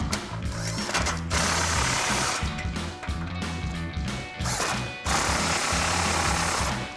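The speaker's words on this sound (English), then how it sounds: "So now we can go ahead and tighten down our 2 nuts with a 21mm socket." A power ratchet tightens two nuts with a 21mm socket while fitting a Raptor-style front bumper on a 2015-2017 Ford F-150, rapid buzzing bursts close and loud, stopping and restarting several times with no talk.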